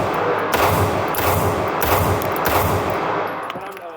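Sharp, loud pistol shots from a SIG P226 X-Legion SAO at a shooting range crack out in a quick sequence of about five reports, each echoing briefly, ending with a faint metallic ring.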